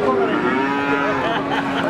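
Feeder cattle at a cattle market give one long, loud, sustained moo that carries through the whole moment, close by, with no talking.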